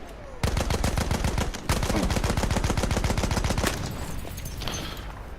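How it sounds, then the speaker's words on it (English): Rapid automatic gunfire in the Battlefield video game, long bursts of closely spaced shots rattling loud and near, with a short break partway and quieter shots trailing off at the end. "Why did you kill that chap when you shot at him loads of times?"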